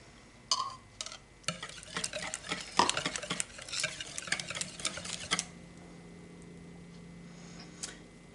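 Eggs beaten with vegetable oil in a bowl for pumpkin bars, a quick irregular clatter of utensil against the bowl for about five seconds, then stopping into quiet room hum.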